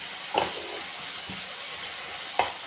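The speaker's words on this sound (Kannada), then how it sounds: "ಇವಾಗ ಪಾಲಕ್ ಸೊಪ್ಪು ಚೆನ್ನಾಗಿ ಫ್ರೈ ಆಯಿತು." Spinach (palak) frying in a pan, a soft steady sizzle with two sharp scraping stirs of a utensil, close and alone without talk.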